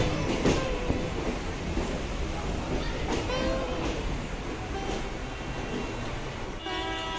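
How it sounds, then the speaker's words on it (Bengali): Barrackpore local train at a station platform, a steady rumble of rolling wagons with clattering wheels and brief horn-like tones, people talking faintly in the busy background throughout. "ব্যারাকপুর লোকাল দিয়ে দিয়েছে আর এখন আমরা ট্রেনে উঠবো"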